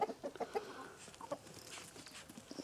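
Hens and a rooster cluck in short, scattered bursts around a farmyard, close and moderately loud, while a puppy is nearby.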